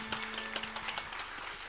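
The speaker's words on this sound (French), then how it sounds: "vous pouvez continuer à les applaudir" Faint applause from a live audience after a performance, scattered clapping with some brief louder claps, fairly quiet and distant.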